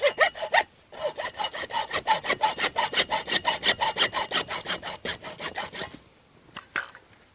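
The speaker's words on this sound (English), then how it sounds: "We'll cut that off with a hacksaw" A hacksaw cuts a 29 or 30-inch piece with steady, rhythmic back-and-forth strokes, about four per second. The rasping is close and loud, with a brief pause near the start, and stops cleanly near the end.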